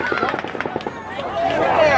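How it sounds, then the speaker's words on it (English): A volley of automatic gunfire at the Route 91 shooting comes as a fast string of sharp, rapid bursts, then trails into a rumbling wash of noise while people shout and talk over it. "the 6th volley of automatic gunfire begins"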